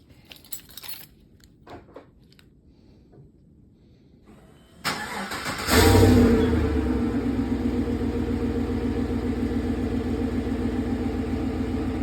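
A 2015 Chevrolet Silverado with muffler and pre-axle resonator deleted: a few faint clicks and rattles, then the engine starts with a loud burst and settles into a steady, deep exhaust rumble that continues to the end.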